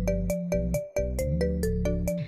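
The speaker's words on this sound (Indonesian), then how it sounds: "Ada telepon." A cartoon phone ringtone plays alone in a comic animated ghost story, a bright repeating electronic melody with regular pulsed notes, loud and close throughout.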